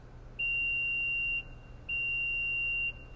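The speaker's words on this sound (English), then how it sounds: "You press and hold this button for two beeps." A 2022 Mitsubishi Outlander tailgate button gives two long, steady electronic beeps, each about a second, evenly spaced, clear over a low hum of background noise, no talk.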